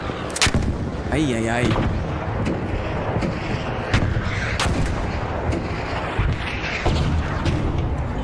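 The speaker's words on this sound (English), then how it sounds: "Watch the missiles." Missile strikes and artillery explosions in the video game ARC Raiders, loud repeated booms and sharp blasts over a constant noisy battle din, with a player's brief vocal exclamations on top.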